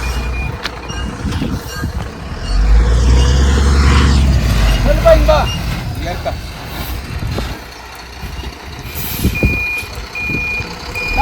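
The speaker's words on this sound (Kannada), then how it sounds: "ಇನ್ನೊಂದು ಗಾಡಿ ಇಲ್ಲಿ ನಿಂತೈತಿ ನೋಡಿ" A soil delivery truck reverses at a house construction site, its steady backup beeper repeating over a loud engine rumble, with people talking nearby.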